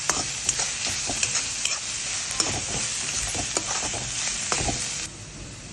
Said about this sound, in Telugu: ముందుగా మూకుడులో నూనె వేసుకుని ఉల్లిపాయ ముక్కలు వేసి వేయించాలి